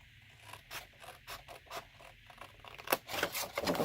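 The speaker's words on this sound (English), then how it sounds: "So right here we're going to cut this line." Scissors cut a line through paper while folding an easy box: a run of short crisp snips and scraping strokes, close and fairly quiet, with no one speaking.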